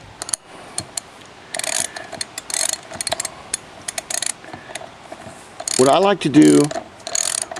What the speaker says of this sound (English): I like to get this wheel nut down just to, you know, where it's pretty tight, but not that tight